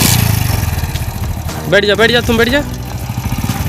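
A Bullet motorcycle engine runs with a generator loaded onto the bike on a rough village road. A steady low engine rumble continues throughout, underneath people talking.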